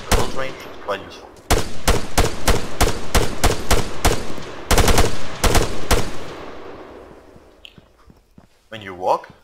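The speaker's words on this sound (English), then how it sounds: "Of course, you can also shoot while walking." Rapid bursts of gunfire from a soldier walking in the ArmA 3 military shooter, loud and close, with a long run of evenly spaced shots, then a quieter tail and a short spoken phrase near the end.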